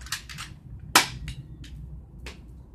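A toy BB gun bought from an ice cream truck fires a few sharp snapping pops, one much louder near the middle, with small clicks between them in a quiet setting.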